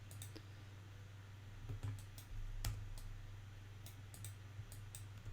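Computer mouse clicks while working in Maya 3D software, a few soft, sparse ticks spread irregularly over a faint steady hum, quiet and close.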